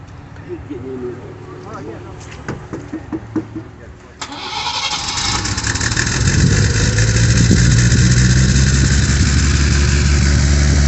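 A 1950 or 1951 Chevy car engine at an outdoor spring swap meet, cranking and starting abruptly after some voices nearby, then idling loudly and revving up to a steadily rising roar, close by.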